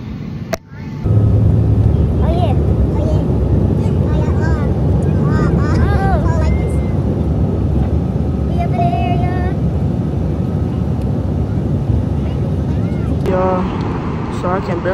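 Loud, steady airplane cabin roar during takeoff, a broad rumble that swells after a brief dip and holds for the whole stretch, with a voice speaking over it.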